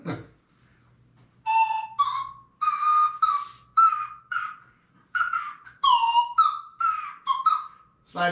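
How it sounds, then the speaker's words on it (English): A slide whistle plays a solo of bright, wavering pitched phrases in short sliding bursts, loud and close with brief gaps between notes. "Slide whistle solo."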